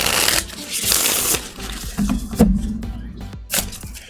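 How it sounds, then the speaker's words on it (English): Close, loud bursts of tarot cards being shuffled, with riffling rustles and sharp snaps in uneven clusters and short pauses between them. "I'm going to shuffle this up a little bit."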